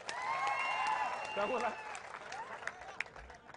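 Audience applause at a political rally in Maharashtra, a sustained dense patter of many hands clapping at moderate distance, with crowd noise and some voices mixed in, easing slightly after the first couple of seconds.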